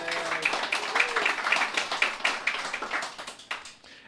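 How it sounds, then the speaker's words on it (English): Audience applause for sponsors during a talk about the orchids of Saba, a moderate crowd clapping steadily indoors that tapers off over a few seconds, with a voice briefly audible at the start. "So huge round of applause for those guys."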